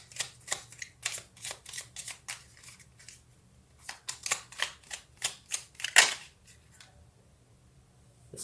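Tarot cards are shuffled by hand in rhythmic bursts of crisp riffling and soft slaps, close and clear in a quiet room, pausing briefly midway before a final sharp snap.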